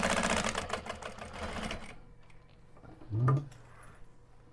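A sewing machine back stitches while assembling a zipper quilted pouch, running in a dense, steady burst for about two seconds before stopping, followed by quiet with a brief low thump.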